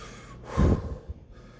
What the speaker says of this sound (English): But I'm breathing heavy.